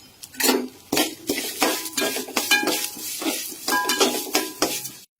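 Coriander seeds and cumin roasting in a pan with urad dal, close and fairly loud, with repeated rhythmic clinks and scrapes of a spoon against the pan over a light sizzle.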